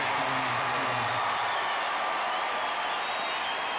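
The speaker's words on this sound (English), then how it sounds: "The crowd on their feet to acknowledge the champion, Roger Federer." Tennis crowd at the Australian Open applauds Roger Federer's fourth-round win over Lleyton Hewitt, a dense, steady wash of clapping filling the arena for several seconds.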